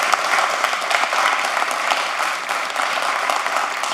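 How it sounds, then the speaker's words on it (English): Audience at a commission meeting applauding a police officer's wife, steady, dense clapping throughout, fairly loud and continuous with no talk over it. "Please give her a big round of applause"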